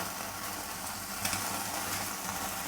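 Chicken cooks over a gas flame turned up high. A close, steady roaring sizzle runs unbroken through the whole stretch, with no one speaking.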